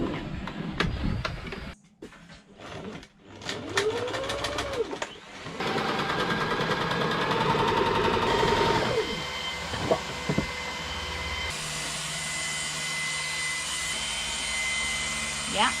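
Sewing machine stitching fabric for a DIY project, first a few short runs, then a long steady motor hum with rattling, close by, with brief talk at the start.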